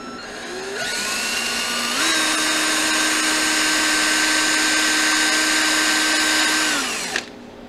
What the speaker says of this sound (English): And I'm going to just drill right into the milk.